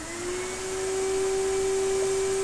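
A Numatic vacuum cleaner with a newly fitted hose switches on. Its motor whines up quickly to a loud, steady drone with a strong tonal hum, heard close and alone.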